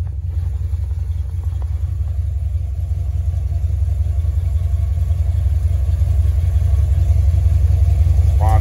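An Oldsmobile car engine running after a fuel pump repair, heard as a loud, steady low rumble close by that holds even throughout.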